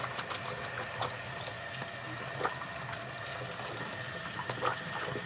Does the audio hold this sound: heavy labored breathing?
no